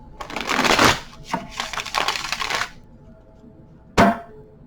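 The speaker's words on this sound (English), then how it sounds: "Cards are always pre-shuffled." Tarot cards shuffled by hand in a couple of quick riffling bursts, followed by a pause and a single sharp tap, close and fairly loud with no talk.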